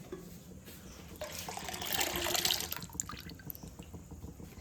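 Water runs and splashes into a freshly rinsed cooking pot, growing louder briefly in the middle and then trickling, heard close up in a quiet rural kitchen with no talking.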